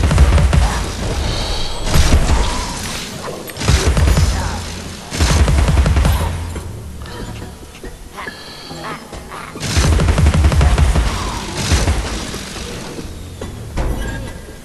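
Bursts of the pepper grinder gun firing in Alice: Madness Returns, loud rapid volleys separated by short pauses for the cooldown, with crashing impacts and mechanical clatter.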